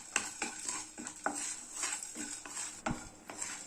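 Cumin, black pepper and dried red chillies dry roasting in a pan for kootu curry, a spoon scraping and tapping the metal in an uneven rhythm, close by and moderately quiet.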